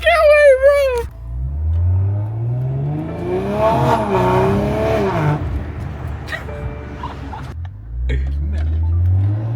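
BMW 540i fitted with a downpipe and aftermarket exhaust revving loudly, the engine note rising and falling through several pulls close by, with people talking over it.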